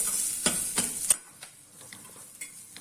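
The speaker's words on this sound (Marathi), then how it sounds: "कांदा घालते, कांदा व्यवस्थित परतवून घेते" Onions sauté in a hot pan, a soft sizzle under a few sharp scrapes and clicks of a spoon stirring against the metal early on, then a quieter fry, close by and with no one talking.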